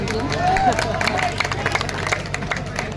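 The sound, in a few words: audience applause at a poetry recital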